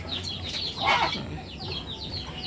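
A rooster on a chicken farm gives a short, mid-distance crow amid faint clucks and chirps from other fowl, with no one talking.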